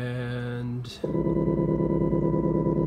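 Mixer feedback run through a wave shaper: a held harmonic tone cuts off briefly, then a louder, denser distorted drone locks in and sustains steadily to the end.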